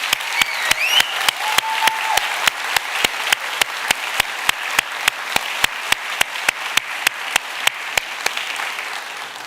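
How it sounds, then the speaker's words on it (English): Sustained audience applause at a Nova Scotia Community College convocation ceremony in 2023: a dense wash of clapping hands with one sharp, steady clap close by, repeating at an even rhythm throughout. "So please join me in a round of well-deserved applause"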